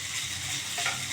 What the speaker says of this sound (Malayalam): ചോറ് ആഡ് ചെയ്തിട്ട് നന്നായിട്ടൊന്ന് ഇളക്കുക.